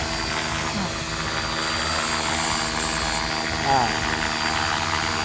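An RC UH-1 model helicopter whirs steadily as its rotor spins up and the throttle rises, a constant close engine and rotor drone with someone talking over it.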